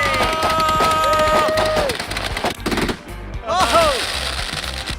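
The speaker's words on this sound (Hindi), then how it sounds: "मैंने बस रैंडम पटाखे खरीदे थे" Rapid crackling bursts of firecrackers or gunfire in a video game match, loud and dense, mixed with sweeping whistling tones and a brief lull before the popping resumes.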